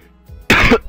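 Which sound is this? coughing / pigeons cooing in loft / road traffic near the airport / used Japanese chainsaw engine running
coughing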